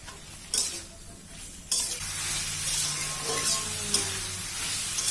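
Ol kochu stalks frying with salt and turmeric in a pan, several sharp stirring scrapes and knocks over a steady close sizzle.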